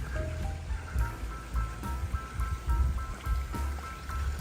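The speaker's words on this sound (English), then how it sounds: "is all these fountains everywhere." Town fountains in Bietigheim-Bissingen, Germany, splash and trickle continuously and fairly close, with a steady run of water and faint tonal sounds in the background.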